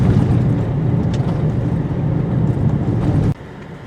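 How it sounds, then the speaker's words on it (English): A 2021 Buick Encore rolls over a rutted washboard road, giving a loud, steady rumble of tires and road noise from inside the cabin that cuts off sharply near the end. "This is a pretty nasty road, lots of ruts and washboard terrain."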